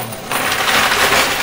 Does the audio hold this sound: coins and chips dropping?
yes